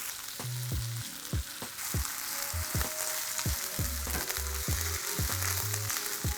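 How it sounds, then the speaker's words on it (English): Onion slices with ginger garlic paste fry in hot oil, a dense steady sizzle broken by repeated sharp scraping and stirring clicks from a utensil, close up with no talking. "I'm going to cook the onion till I get nice golden brown color."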